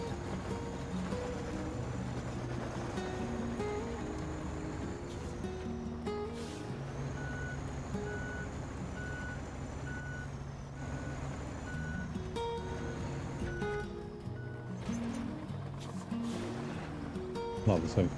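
A steady truck engine drone in the SnowRunner video game, with gear-shift changes in pitch, repeated electronic beeps midway, and speech over it.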